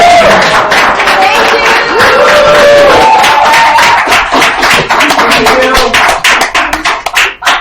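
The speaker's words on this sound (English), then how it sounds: "one more round of applause for all the participants" An audience claps and applauds for the participants at a group session, a dense, loud burst of many hands that thins out toward the end, with some voices under it.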